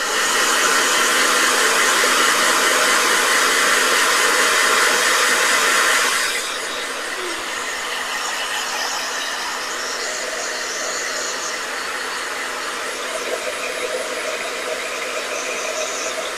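A blow dryer roars loudly with a steady hiss for several seconds, then switches to a quieter, lower setting that keeps running.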